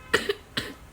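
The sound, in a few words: child coughing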